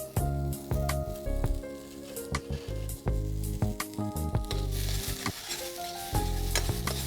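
Onions frying with hot cumin seeds in a pan over a low flame for grilled chicken rice, a continuous close sizzle broken by repeated stirring scrapes and clacks of a spoon against the pan.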